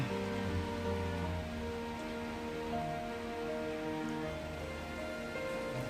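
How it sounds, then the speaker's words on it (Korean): Rain falling outside an apartment in the early morning, a faint, steady patter and hiss that continues evenly without interruption. "밖에는 아침 일찍부터 비가 옵니다."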